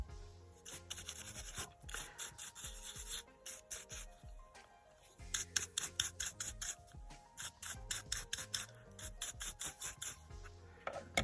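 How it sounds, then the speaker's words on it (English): A shaving brush scrubs over a Scalextric Renault RS-03 slot car body shell in close, quiet bristly strokes that come in irregular bursts, faster in the second half. "just grab the trusty shaving brush"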